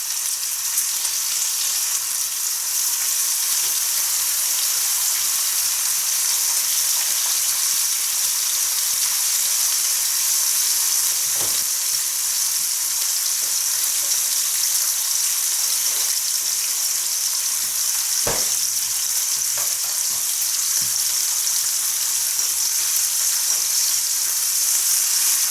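Small flavoring pieces for spicy rutabaga fry in a pan with a steady, dense sizzle that holds evenly for the whole stretch, broken by a few sharp pops and crackles.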